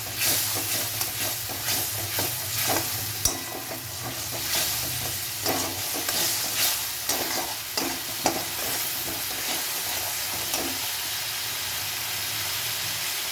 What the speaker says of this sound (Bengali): এটা মশলা ধোয়া জলটা দিয়ে দিলাম